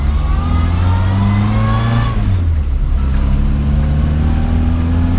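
A 1958 Morris Minor 1000 quarter-ton pickup engine drives along at close range and steady volume. It revs up through a gear, drops briefly on the shift, then climbs again with a loud, even drone.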